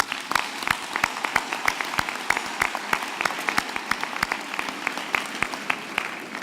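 University graduates at an end-of-year graduation ceremony clap for themselves in a hall, a sustained ripple of many hands at moderate loudness with no voices over it.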